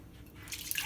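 About two cups of water poured into the bottom of a cooking pot, a short splashing pour that swells in the second half, close by with no talking.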